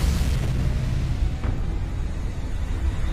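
Missiles fired and exploding in a superhero action film, a dense sustained low boom and rumble with a brief sharp burst partway through.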